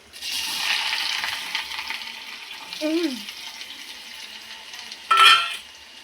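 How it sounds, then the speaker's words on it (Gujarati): Garlic and cumin sizzling in hot oil in a pan, a steady soft crackle that fades slightly, with a brief clink of a utensil near the end. "આ લસણને ઘડીક વાર આપણે તતડવા દેવું"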